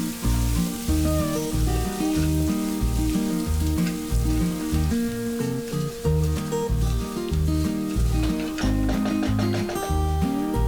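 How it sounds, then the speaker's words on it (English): Mustard seeds, fenugreek seeds and chopped garlic fry in hot oil with a continuous bright sizzle and crackle. Steady rhythmic background music plays throughout, largely masking the sizzle. "add half tablespoon yellow mustard seeds, 1 teaspoon fenugreek seeds or methi seeds, 6 garlic cloves chopped, and fry it for few seconds"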